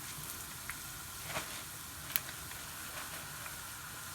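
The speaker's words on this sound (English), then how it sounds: "the oil to be able to cook all around the fish" Battered fish fries in hot oil, a quiet, steady, close sizzle with a few soft pops and crackles and no talk.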